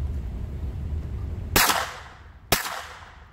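A Glock 26 pistol fitted with a Silencerco Omega 9K suppressor fires two sharp, muffled shots about a second apart. Each crack is loud and close and fades into a short decaying tail.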